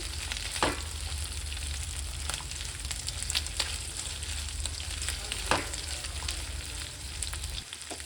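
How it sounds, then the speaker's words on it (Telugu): Quail pieces frying in hot oil for a village-style curry, a steady close sizzle and crackle throughout with a couple of sharp stirring scrapes, no voices. "వీటిని చక్కగా ఈ ఆయిల్లో ఫ్రై చేసుకుందాం"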